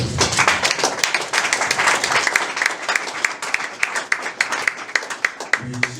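A congregation at a gospel church gathering in Togo claps loudly for the organising committee, dense applause settling into sharper, more separated claps toward the end.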